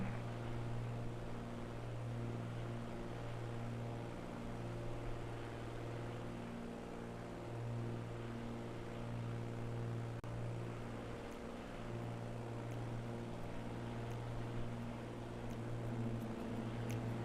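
Steady engine drone inside a Cessna cruising at 12,000 feet on a cross-country flight toward Los Angeles, a constant low tonal hum with even harmonics, unbroken and fairly quiet throughout.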